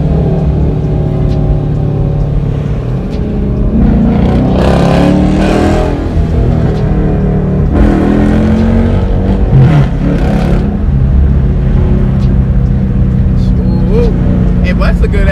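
A 2016 Dodge Charger R/T+ with quad tips and a straight-piped exhaust revs loudly up close, with deep rumbling bursts rising and falling over a steady drone while people talk and shout over it.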